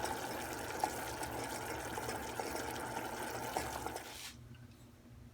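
Kewra water trickles into a pan of dissolved sugar syrup for suji halwa, a soft, steady liquid hiss with faint bubbling that runs for about four seconds and then stops abruptly.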